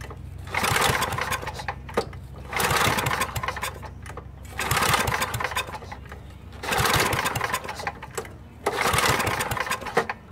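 Onan 4KW generator engine with the choke on, cranking and trying to start in four or five loud rhythmic bursts of about two seconds each, separated by short pauses, close up.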